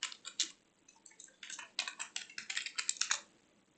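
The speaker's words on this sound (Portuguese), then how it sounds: "Então, eu vou digitar aqui novo nome completo." Fingers typing on a computer keyboard while entering a name into a Java program, bursts of quick close key clicks with short pauses between.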